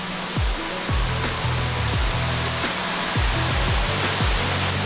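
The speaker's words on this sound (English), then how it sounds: "This one is the Greenland Creek Falls." Greenland Creek Falls, a waterfall in Panthertown Valley in the Nantahala National Forest, roars as a steady, full broadband rush, close and continuous throughout, with occasional low thumps from wind or handling underneath.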